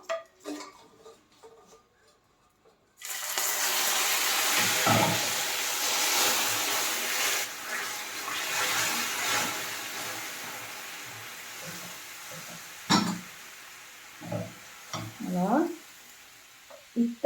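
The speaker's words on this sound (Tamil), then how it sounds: "லேசாக தண்ணி ஊற்ற போகிறோம்" Water poured into hot caramel in a pan gives a sudden loud sizzle that hisses on and slowly fades, followed by a few clinks and scrapes of utensils.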